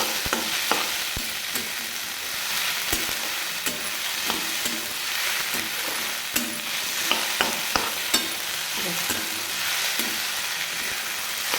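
Potato pieces and onion stir-fry in oil in a pan, a continuous near sizzle broken by repeated sharp spatula scrapes and knocks in an irregular rhythm, with no talking.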